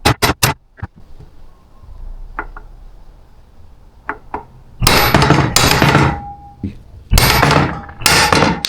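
Sharp metal hammer blows punching tight U-joint caps out on a one-ton truck, a few quick taps and then heavy, ringing strikes in uneven bursts, close and loud.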